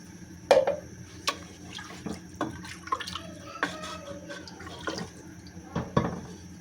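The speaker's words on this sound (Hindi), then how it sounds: "अब हम इसमें ये तकरीबन ½ लीटर पानी डाल देंगे।" About half a litre of water pours and splashes into a pressure cooker of chana dal in uneven bursts, with drips and light clinks over a steady low background hum.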